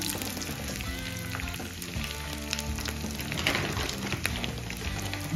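Curry leaves, green chillies and grated ginger frying in hot oil, a steady close sizzle with crackling pops throughout and no voices.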